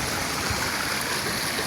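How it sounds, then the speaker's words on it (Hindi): Clear mountain stream and waterfall rushing in a valley village of Azad Kashmir, a steady, full broadband roar of running water, close and continuous with no voices. "अबशारा साफ सुथरा पानी क्या शोर है"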